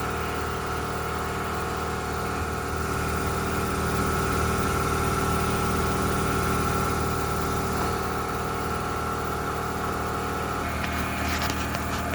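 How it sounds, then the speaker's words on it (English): A 2014 Ford F150 with the 5.0 V8 idles steadily under the open hood while the A/C compressor is expected to engage, a constant close-up drone and hum with no voices. "Wait for this compressor to come up."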